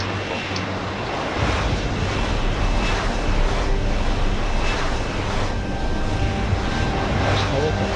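Aircraft in Deus Ex: Human Revolution, a helicopter-like craft, gives off a continuous loud droning engine roar with a rushing, airy wash that stays steady throughout, while a voice speaks over it.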